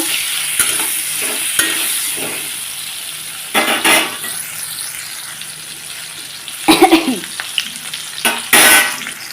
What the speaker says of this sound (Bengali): লবণ দিয়ে ভালোভাবে আরও ভেজে নেব